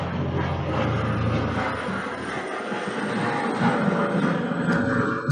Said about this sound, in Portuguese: Desculpa aí a passagem do helicóptero.